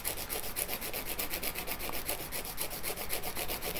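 Steady, rapid back-and-forth rasping of a file shaping gel nails, close up and even in rhythm, with no voices.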